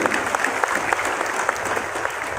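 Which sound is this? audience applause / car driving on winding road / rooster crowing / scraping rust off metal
audience applause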